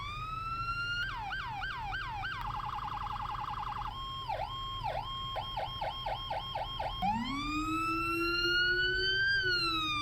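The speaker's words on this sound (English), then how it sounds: "let's check the sirens" An emergency vehicle siren under test cycles through several modes: rapid chirping yelps, a fast warble, quick repeated sweeps, then a rising howl, loud and close with no talking.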